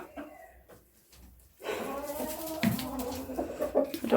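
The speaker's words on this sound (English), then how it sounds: "I'm out here every day checking my chickens." Chickens cluck and mutter close by in a snowy outdoor yard, faint at first, then a busier stretch of overlapping clucks and short calls over a steady background.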